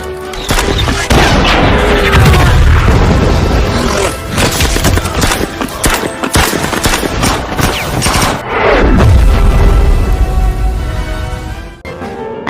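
Close-quarters battle scene from a war film set in Stalingrad, with dense bursts of gunfire, machine-gun fusillades and heavy booming explosions, loud and continuous, layered over a music score with no talking.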